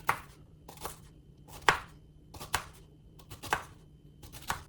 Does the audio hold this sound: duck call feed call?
no